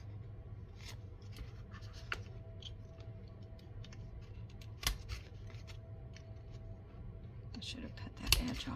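Scissors snipping a paper tag for a junk journal, with faint sparse clicks and cuts over a low hum, growing a little busier near the end.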